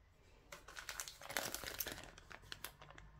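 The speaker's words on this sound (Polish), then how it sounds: "Ja otworzę ten zestaw, żeby pokazać Wam, o co mi chodzi" A Mill Hill beading kit package is opened, with crisp crinkling and crackling of plastic wrapping in irregular bursts, close and fairly quiet, building in the middle then easing off.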